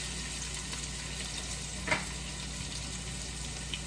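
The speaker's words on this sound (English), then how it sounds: "I'm gonna saute a little bit the onions because I want them to get a little bit caramelized" Onions sautéing in oil in a pre-warmed pot, a steady soft sizzle running throughout at moderate level, with one brief stir or clink near the middle and no talking.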